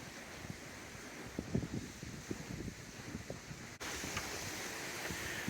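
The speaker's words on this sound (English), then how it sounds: "It's just windy." Gusty hurricane wind from Hurricane Ian buffets the microphone outdoors in Kissimmee, Florida, a steady roar with rustling bursts and no rain or voices.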